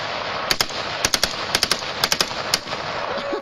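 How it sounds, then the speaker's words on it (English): A four-year-old child fires a machine gun at an outdoor gun party, sharp gunshots in short bursts of two to three rounds repeating about every half second over steady background noise. "taking on a machine gun at age 4"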